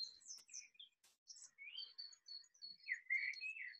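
Birds chirp and tweet in quick, high, scattered calls beside a fish pond at an environmental education center where spoonbills and ibises hunt, fairly faint and close to one another, with no talking.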